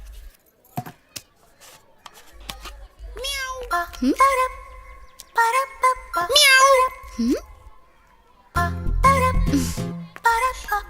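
A person imitates a cat's meowing in a string of drawn-out, pitch-bending meows, fairly close and loud, with brief rustles and a short burst of noise near the end.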